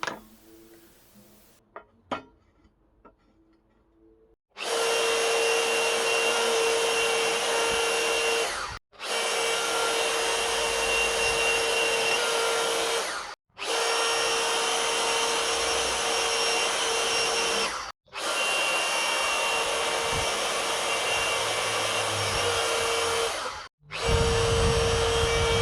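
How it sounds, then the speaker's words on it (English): A power drill bores 30mm holes through a metal bracket for M12 bolts, running loud and steady in four long bursts separated by brief pauses, with quieter handling noises before the first run. "For M12 bolts, I'm drilling 30mm holes into the bracket."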